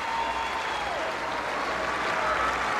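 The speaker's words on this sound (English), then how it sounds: "And now, listen to the crowd." A large gallery cheers and applauds at a women's golf tournament, the 1997 U.S. Women's Open final round at Pumpkin Ridge, a steady, dense roar of clapping and crowd noise filling the whole stretch without letup.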